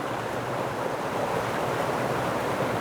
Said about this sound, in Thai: ท่านผู้ชมจะได้ยินเสียงน้ำตกนะครับ ซึ่งไหลลงจาก ภูเขานะครับ